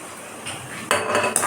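A metal spoon stirs goat liver with fried tomato and onion in a pan, giving a soft scrape followed by two bright clinks against the metal, close and brief.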